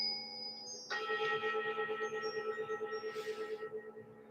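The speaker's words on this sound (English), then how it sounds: "use the sound of the bells to bring you back to the present moment" A bell rings clearly once during a guided meditation session and its tone sustains and slowly fades with a gentle pulsing shimmer.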